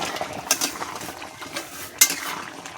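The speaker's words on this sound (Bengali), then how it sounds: "এখন আমি মাছগুলো দিয়ে দেবো। নাড়াচাড়া করে দেবো" Fish being stirred in a pan of pumpkin and khaira fish curry, with light scraping and clinking of a utensil against the pan and sharp metallic knocks at two points amid a soft steady sizzle.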